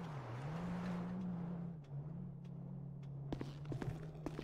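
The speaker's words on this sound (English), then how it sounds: "I can hear every car that goes past" Cars passing on the street outside an open window, a low steady buzzing engine hum that swells and fades, with a few sharp clicks and knocks near the end.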